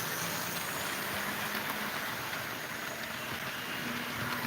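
Union Pacific E8 model train running under power, a steady, fairly quiet whirring rumble with faint intermittent tonal hums, continuous for a few seconds with no talking.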